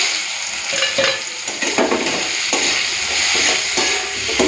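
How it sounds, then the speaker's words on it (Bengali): Chopped onion and slit green chillies fry in oil with nigella seeds in a pan, producing a loud continuous sizzle close by, broken by stirring scrapes. "তেলের মধ্যে দিচ্ছি কালো জিরে ফোড়ন দিয়ে দেবো পেঁয়াজ কুচি আর চেরা কাঁচা লঙ্কা"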